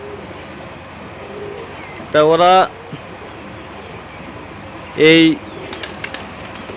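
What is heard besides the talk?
pigeons on a roof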